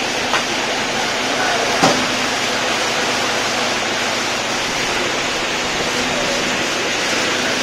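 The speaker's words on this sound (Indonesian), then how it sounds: "Hujannya deras ya." Heavy rain drumming steadily, heard from inside the cockpit of a modified Taft 4x4, a loud dense hiss with a couple of faint knocks and no voices.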